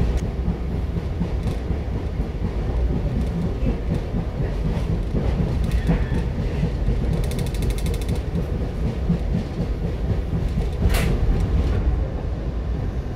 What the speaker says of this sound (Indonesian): Argo Parahyangan train will arrive at our final destination of Gambir station